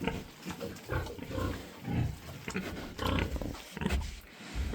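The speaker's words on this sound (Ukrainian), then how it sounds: "Так що такі от у нас поросятка." Large White x Maximus crossbreed piglets grunting and squealing up close, a busy overlapping stream of short grunts throughout.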